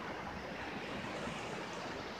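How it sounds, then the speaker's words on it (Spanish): Sea waves wash onto Alicante beach at night in a continuous broad roar of surf, close and steady, with some wind noise and no voices. "Lo que se escucha es el mar, que me estoy acercando."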